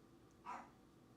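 A dog gives a single short bark, faint and somewhat distant, rising briefly out of a quiet room and then fading.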